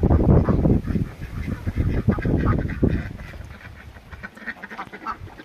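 Geese honk and ducks quack in a noisy cluster nearby on a farm, the calls overlapping with strong wind rushing across the microphone.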